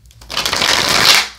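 A quick riffle of tarot cards being shuffled close by, a brief papery rush that swells and fades in about a second.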